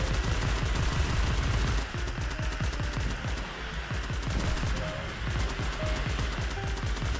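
Rapid gunfire from a multiplayer shooter game, where a revolver is among the weapons, heard as dense, repeated shots and bursts layered over continuous battle noise with no pause.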